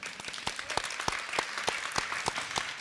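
A small audience claps after a talk at a human rights forum, sparse and uneven with individual claps clearly audible, fairly faint and brief.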